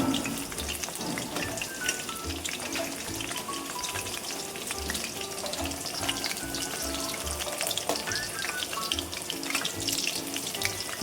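Chicken frying in a pan over a low flame, a steady dense sizzle running throughout with faint scraping, loud and close with no talking.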